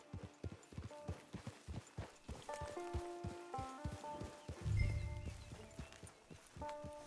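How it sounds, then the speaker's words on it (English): A horse walks in Red Dead Online, its hooves clip-clopping in a steady, even rhythm close by, with a brief snort partway through and faint musical tones underneath. "Get your horse."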